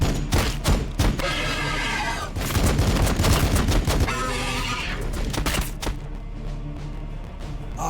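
A Landspeeder opens fire in a Warhammer 40,000 Battlesector skirmish, its rapid gunfire clattering in loud repeated bursts amid battlefield thumps and explosions, easing off near the end.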